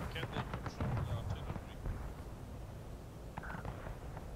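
Artillery fire and scattered gunfire in the War of Rights game at the Cornfield skirmish, with several dull booms and crackling shots early on, then quieter bursts, all under a steady noisy battlefield din.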